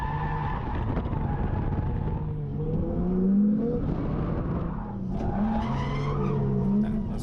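A drift car in a racing video game, its engine droning and shifting pitch under throttle while tires squeal and skid in long sliding sweeps, steady and fairly loud with no voices.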